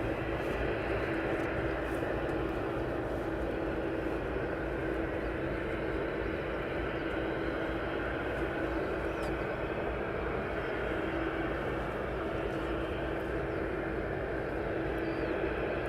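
Steady, continuous roar of an aircraft on approach to East Midlands Airport, a broad engine rumble with a faint steady tone, heard alone and unchanging throughout.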